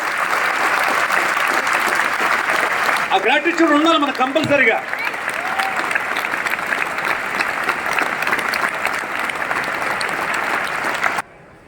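An audience claps loudly for their parents in sustained, dense applause lasting several seconds. A speaker talks briefly over it before the sound cuts off abruptly.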